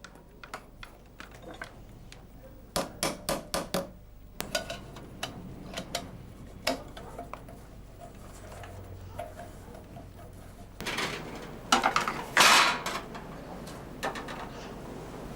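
A tinsmith works a soldered tinplate ring in a workshop, forming a flange with a run of sharp tapping and clicking hits in quick bursts, louder clustered strikes near the end, and quiet gaps between.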